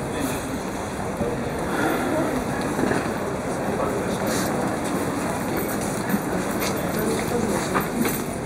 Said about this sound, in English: The train trip takes about 35 minutes from Madrid to Toledo.